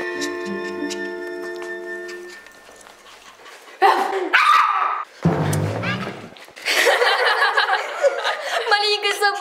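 A small dog gives a few sharp yapping barks in short bursts midway through, mixed with playful chuckling voices, a ticking sound and musical tones earlier on.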